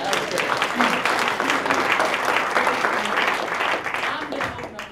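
At a startup launch challenge, an audience claps after a pitch. The applause is steady and dense for several seconds, with voices mixed in underneath.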